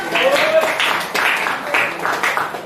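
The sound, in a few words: class applause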